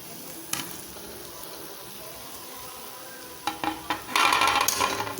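Shredded parotta is stirred in a frying pan over a steady low sizzle. A few sharp scrapes come first, then a cluster of louder, busier stirring and clattering strokes near the end.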